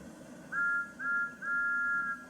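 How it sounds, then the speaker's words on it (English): Three short, clear whistle toots from Thomas, a wooden toy steam engine, each a steady two-tone pitch over faint background hiss, the last held longest. "That's Thomas's whistle."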